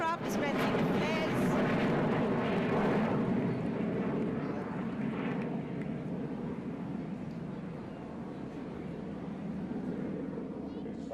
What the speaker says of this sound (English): comprising 3 Bison aircraft flying in big formation